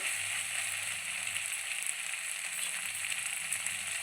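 Pepper chicken frying in a pan without masala, a steady low crackling sizzle running evenly throughout with no voices.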